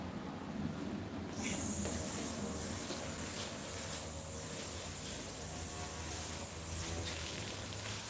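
A spray can of WD-40 lubricant hisses in a steady, fairly close burst lasting several seconds, set against a low background rumble.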